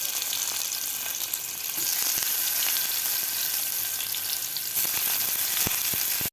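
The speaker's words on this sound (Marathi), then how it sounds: "आता यामध्ये आपल्याला टोमॅटो आणि कैरी घालून घ्यायची आहे।" Raw green mango and tomato hit hot oil in a pan, giving a loud, continuous sizzle that holds steady throughout, with a few faint stirring clicks and no voices.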